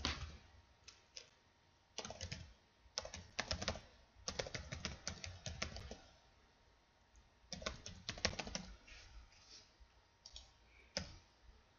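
Website address typed on a computer keyboard, quiet clicking keystrokes in uneven flurries and pauses, close and alone with no talking.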